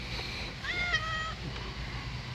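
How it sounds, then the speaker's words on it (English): A single drawn-out meow from a cat in a garage workshop, fairly close but soft, over a faint steady background hum. "Look, cat."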